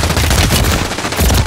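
Sustained automatic gunfire from Warzone 3.0 gameplay, loud and dense rapid bursts filling the whole moment, with a brief dip midway before the shooting resumes at full intensity.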